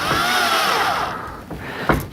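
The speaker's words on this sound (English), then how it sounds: "Keeping the drill as straight as possible." A power drill whines steadily as it bores through a planetary rover chassis, close and loud, with the pitch sagging and rising under load and a short grinding burst near the end; no talk.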